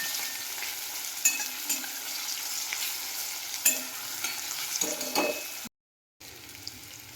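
Onion and tomato sizzle in a pan, a steady close frying hiss with occasional stirring scrapes and a brief silent gap near the end.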